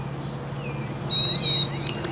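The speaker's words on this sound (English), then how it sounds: "Doesn't it sound like two birds there?" Two birds trade short, high whistled calls back and forth outdoors, clear but modest in volume, with a faint low background hum and no talking.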